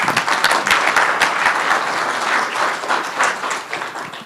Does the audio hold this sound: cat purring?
no